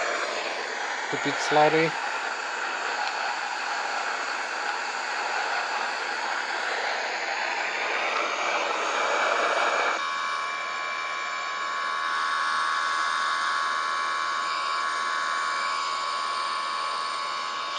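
Airliner jet engines spool up to takeoff power during a go-around, a loud broadband roar and rising whine heard from inside the cockpit, with a short spoken callout near the start.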